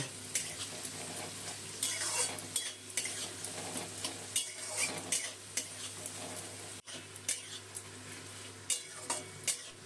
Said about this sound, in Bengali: দিয়ে দিলাম দুটো বড় সাইজের পেঁয়াজ কুচি পেঁয়াজটা তেলের মধ্যে একটু ভেজে নেব